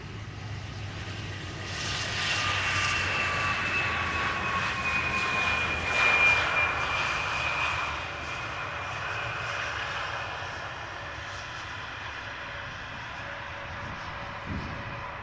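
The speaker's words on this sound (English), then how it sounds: "now it is touching down again on Dutch soil. This Embraer 175 is 5 years old." An Embraer 175 jet touches down at Amsterdam Schiphol Airport, its engines roaring steadily at a distance with a high whine that swells and then gradually fades.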